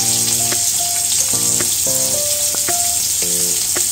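Chopped onions and green chilli hitting hot oil that already holds reddened whole spices for an onion curry, giving a steady loud sizzle and crackle throughout. Faint clinks and stirring sounds come and go in the background.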